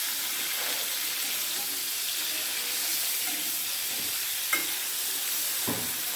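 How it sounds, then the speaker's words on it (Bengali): Prawns frying lightly in oil give a soft, continuous sizzle with faint stirring clicks and a couple of small taps near the end, fairly quiet and steady throughout, no speech. "চিংড়ি মাছটা হালকা আমি একটু ভেজে নেব।"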